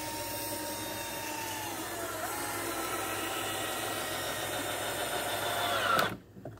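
Power drill driving massive screws into a wooden wedding cross, a sustained whining motor that rises and strains as the screw bites, then stops abruptly near the end.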